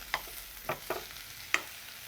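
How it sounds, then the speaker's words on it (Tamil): A spoon stirring potato milk sodhi in a pot, giving a few soft scraping strokes, roughly four short bursts spaced irregularly over quiet background. "நல்லா 2 நிமிஷம் கிளறுங்கோ"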